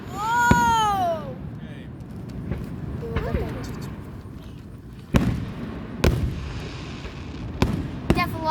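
Fireworks bursting at a July 3rd public show celebrating America's 250th birthday, with a whistling rocket rising first and then several sharp, loud booms spaced about a second apart over crowd murmur.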